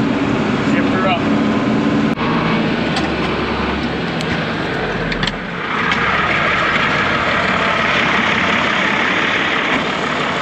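A tractor engine cutting hay in a hot field after heavy rain gives a steady, loud, close diesel drone the whole time, with brief dips in the engine note.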